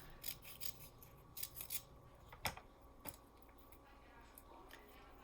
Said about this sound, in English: And then I'm going to cut it in half so it doesn't show.